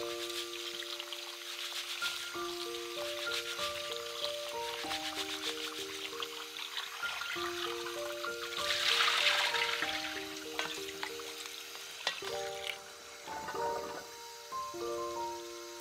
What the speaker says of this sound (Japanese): お米を傷つけないように優しく洗います